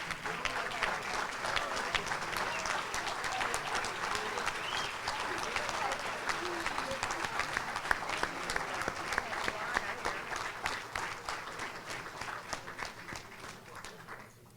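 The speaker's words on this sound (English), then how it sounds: "please stand and give them a round of applause" A banquet audience rises and applauds, a dense, steady wash of many hands clapping that holds strong for several seconds before slowly thinning out.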